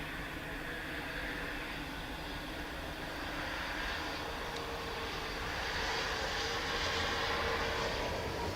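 An airliner landing at Dublin Airport, a steady broad engine roar and rush that swells slightly toward the end, heard from a distance outdoors with no clear talk.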